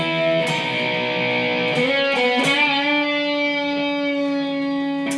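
Distorted electric guitar plays the Mega Man III intro riff, picking a few notes and then bending and releasing into a long sustained tone, loud and alone.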